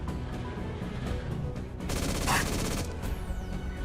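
Mechs fire on dinosaurs in the video game Mech Armada: a rapid volley of gunshots bursts out in a dense, bright cluster over a low rumbling game backdrop, then tapers off.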